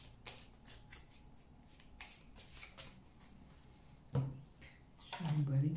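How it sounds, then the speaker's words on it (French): A deck of tarot cards is shuffled by hand in a series of soft, rapid riffles and flicks, close by, with a louder rustling burst near the end. "Je vous bats les cartes"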